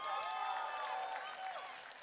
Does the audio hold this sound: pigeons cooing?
no